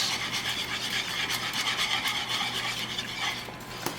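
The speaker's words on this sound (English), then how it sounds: "just going to mix it slowly till you get it well mixed" A spoon or whisk stirring a sauce mixture in a pot for a chicken and broccoli bake, a steady close scraping and swishing rhythm with faint liquid slosh, heard alone without talk.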